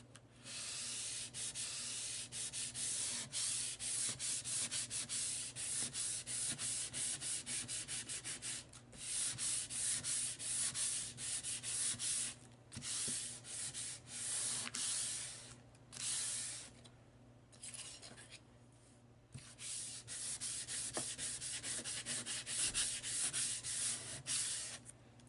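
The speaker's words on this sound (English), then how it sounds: "grit paper. I'm just going to gently sand." Fine grit paper gently sands a shrinky dink plastic sheet in steady back-and-forth strokes, a continuous close scratchy rubbing broken by a few short pauses, with no talking.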